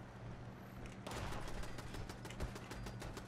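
Rapid bursts of automated turret gunfire in Fallout 76, a dense rattling volley that starts abruptly after a quiet second and continues steadily to the end, moderately loud.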